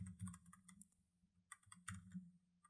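Keys tapped on a computer keyboard while a ChatGPT prompt is written, a quiet, close run of quick irregular clicks with brief pauses and no voices.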